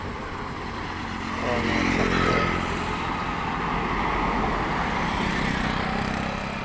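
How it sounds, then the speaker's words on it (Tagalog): Trucks loaded with cement and building materials pass by a tower construction site in Sucat, Parañaque, a steady close roar of heavy engines and road noise swelling as they go by, with voices talking over it. "Ang daming truck"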